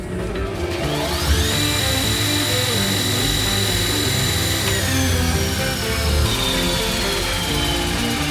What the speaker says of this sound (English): this is a 2-inch by 42-inch grinder. It works really well. It's let me flip it on.